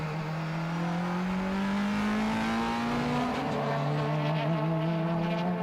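A Ligier race car engine at the Jarama circuit drones loudly and steadily, its pitch climbing, then shifting and climbing again as it passes close by.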